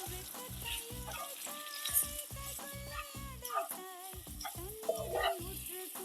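Fish curry masala being sautéed in a pan, a steady close frying sizzle with repeated stirring scrapes and clinks of a spoon against the pan, no talking.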